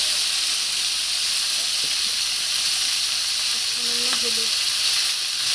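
Eggplant frying crisp in hot oil with a pinch of turmeric, a loud continuous hiss and sizzle close by, with a brief spoken remark and a faint clink partway through.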